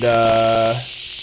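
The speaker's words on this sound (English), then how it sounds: "now I'm going to get my my little air sprayer" A small air sprayer hisses with a buzzing tone onto a Nissan 370Z Akebono sport brake caliper, a single close burst lasting under a second before cutting off.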